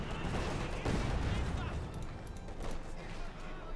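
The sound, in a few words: artillery and mortar bombardment in a video game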